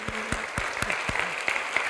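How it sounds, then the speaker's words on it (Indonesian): A church congregation claps together during a service, the applause steady and moderately close, with a few sharper individual claps standing out over the dense patter. "Mari kita berikan tepuk tangan"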